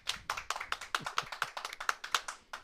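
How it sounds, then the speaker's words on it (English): People clapping in unison in a studio, a run of about twenty sharp, evenly spaced claps in a quick steady rhythm, close and distinct with no talk. "Clap."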